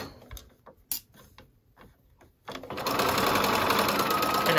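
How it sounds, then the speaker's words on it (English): A sewing machine stitching scrunchie fabric with a backstitch: a few quiet clicks and handling taps first, then the motor starts and runs in a steady, loud, rapid whir of stitching to the end. "now I'm gonna sew this down and backstitch at the beginning"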